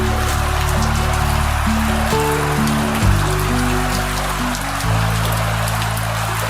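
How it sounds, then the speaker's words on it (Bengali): Heavy rain pours down steadily under a dark, overcast sky, a dense continuous wash of drops drumming on surfaces, loud and unbroken throughout with a low hum beneath. "ঝমঝম করে বৃষ্টি পড়ছে।"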